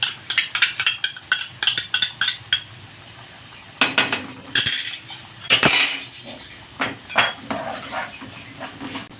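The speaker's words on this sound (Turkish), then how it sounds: "Şöyle bir yemek kaşığı domates salçamızı ilave edelim." A tablespoon of tomato paste goes into onions frying in a pan: rapid spoon clinks and taps against the pan, then scraping and stirring over a light sizzle, close up with no speech.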